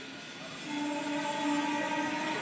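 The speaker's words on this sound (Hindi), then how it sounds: "हाँ वहाँ देखिए ट्रेन, ये ट्रेन जा रही।" A train passes near a station under construction by a petroleum depot, a steady rumbling roll that swells as it nears, with a sustained horn-like tone riding over it.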